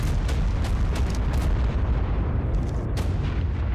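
A creature in the ARK Primal Fear video game bombards its surroundings, loud repeated booming blasts like artillery fire rolling over one another in a dense, continuous barrage with no talk.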